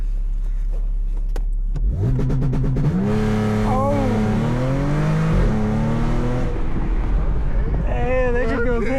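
A supercharged Audi S4 at a street takeover revs hard and climbs through rising engine pitch as it spins, loud and close amid wind buffeting, with a brief voice from people in the car.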